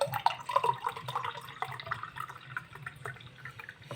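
JAFFA Superfruits cherry juice trickles into a glass in a soft, close pour with faint splashing and dripping, heard alone without any talking.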